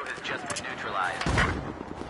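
A frag grenade blows up in Battlefield 4, a single loud burst with a low rumble about midway through, set against ongoing game noise and gunfire with a voice talking around it.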